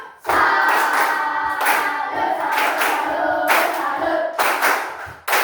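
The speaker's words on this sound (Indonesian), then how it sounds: "Kita adakan tepuk salut." A standing classroom of students performs a rhythmic clapping cheer, the tepuk salut class chant, with loud grouped claps in bursts separated by short pauses, close and filling the room.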